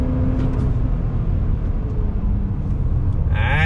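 A 2021 Toyota Highlander XSE AWD accelerates, its engine and road noise making a loud, steady rumble with a slight rise toward the end.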